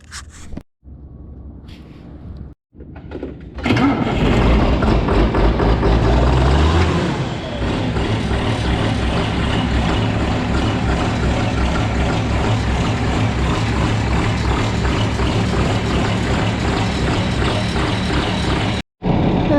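A 7800 engine cranks briefly in a few stuttering bursts, catches and roars up, then settles into a loud, rough, steady idle as it warms up in the cold.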